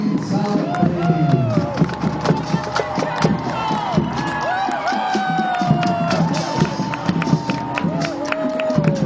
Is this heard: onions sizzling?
no